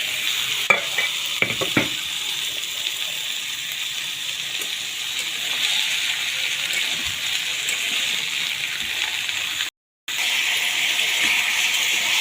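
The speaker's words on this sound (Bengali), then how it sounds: "সবজিগুলোকে ভালো করে ভেজে নেব" Vegetables for khichuri fry in a pan with a continuous bright sizzle, broken by a few sharp clicks of stirring near the start and a short drop into silence near the end.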